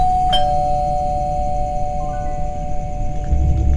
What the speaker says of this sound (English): rang the doorbell for the first time in 2 decades